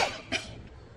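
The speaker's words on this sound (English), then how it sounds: "Don't know why I started coughing again today." A single sharp cough, close and loud, followed by a softer second one and quiet.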